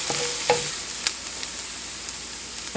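Garlic and basil tossed into a pan of hot butter, sizzling steadily with a few sharp clinks of a utensil stirring near the start.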